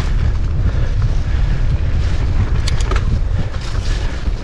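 Cold wind blows outdoors over a muddy trail after rain, a steady, loud low roar buffeting the microphone throughout with no talking.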